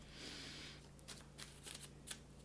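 A Thoth tarot deck being shuffled, with soft riffling and card flutter over a quiet background hum, followed by several sharper, close snaps of cards being tapped and squared.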